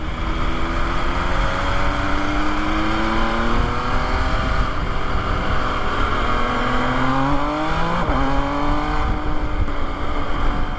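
A 2020 MV Agusta motorcycle engine while being ridden, giving a loud steady drone whose pitch rises and falls with shifting tones as the clutch is used.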